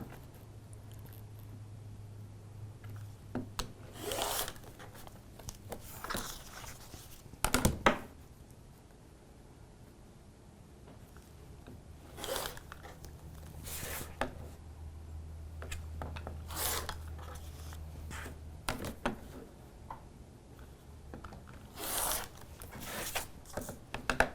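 Quilt block foundation paper being trimmed with a cutter for a Modern to a T quilt: repeated short dry rasping and rubbing strokes, close and fairly quiet, separated by pauses with occasional thunks.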